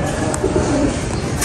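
Soft, low pigeon coos close by in a pigeon loft, repeating over a steady background of more birds cooing and rustling.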